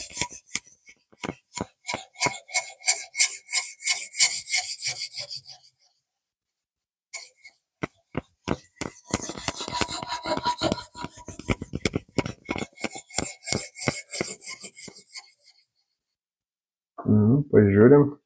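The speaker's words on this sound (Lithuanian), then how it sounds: "ir toliau galandą" A knife blade is sharpened on a whetstone in rapid rhythmic scraping strokes, grouped into bursts with short silent gaps between them, and a brief voice comes in at the end.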